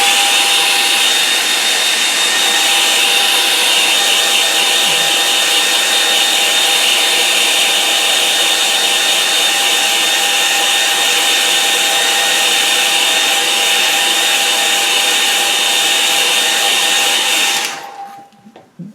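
A hair dryer blows steadily and loudly for nearly twenty seconds, drying watercolour paint on a painted rock, then switches off abruptly.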